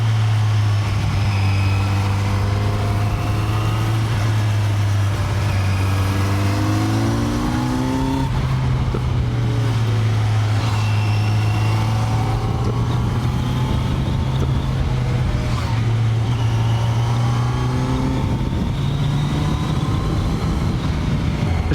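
A Kawasaki Z900 motorcycle engine drones steadily at close range, its pitch rising and falling as the rider shifts through gears, with wind noise throughout.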